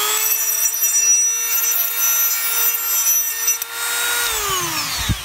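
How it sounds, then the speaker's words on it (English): A high-pitched Dremel with a sanding drum whines steadily while grinding the inside of a steel bicycle tube, with a scraping rasp; the motor pitch drops as it winds down at the end. "I have a sanding drum on here, and I can hit that on the inside diameter of the tube"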